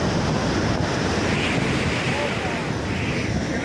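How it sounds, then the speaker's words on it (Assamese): Sea waves wash onto the beach at Digha in a steady, loud surging roar, mixed with gusts of wind buffeting the microphone. "ঢৌ আহি আছে"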